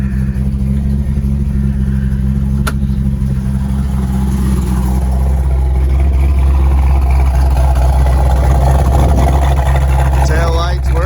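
A 1968 Ford Mustang with a 428 Cobra Jet V8 and four-speed idles steadily with a deep, continuous rumble, close by, while a person talks nearby.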